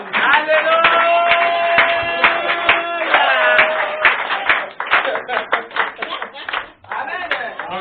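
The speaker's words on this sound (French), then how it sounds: "Est-ce que nous pouvons acclamer pour la femme?" A church congregation applauding the women, loud close rhythmic clapping mixed with a sung or chanted tone and voices throughout, the claps thinning toward the end.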